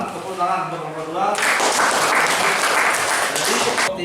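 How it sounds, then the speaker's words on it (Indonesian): Loud burst of applause from students in a classroom after a group presentation on economics, starting abruptly after a spoken line and sustained densely for a few seconds before cutting off. "Silakan tepuk tangan untuk kelompok 2."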